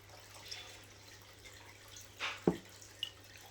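A potted pothos gets watered with fish tank water mixed with a little milk: a quiet room with a few sparse drips and small splashes, one slightly louder splash near the middle.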